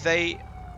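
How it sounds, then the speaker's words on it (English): An ambulance siren in the video game GTA V gives a short, loud, bright wail that cuts off quickly, leaving a low hum behind. "Oh no, so it's an ambulance"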